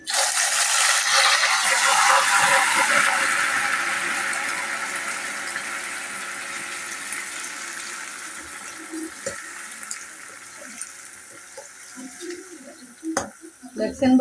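Soaked semolina hitting hot caramel in a pan for halwa, giving a loud broadband sizzle that is strongest at the start and slowly fades, with scattered stirring clicks and scrapes toward the end.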